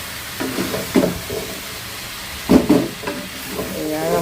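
Flat beans and potatoes cook in a pan in a home kitchen, with a low background sizzle and a few louder stirring scrapes and clatters. Faint voices can be heard.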